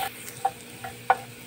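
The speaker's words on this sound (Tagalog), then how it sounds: "Gisa-gisahin lamang natin to guys." Aromatics sauté in a pan for ginisang monggo, a soft steady sizzle with a few light clinks of a spatula against the pan, close and fairly quiet.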